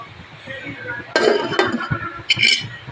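A lid is set onto a cooking pot of lubi-lubi vegetables in a home kitchen, giving a few metallic clinks and rattles, close by, with a voice talking lightly around it.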